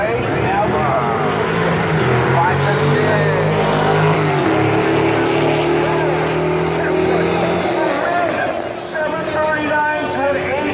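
A Pontiac GTO accelerates hard off the line in a drag race, its engine roaring loud and continuous while a voice talks over it.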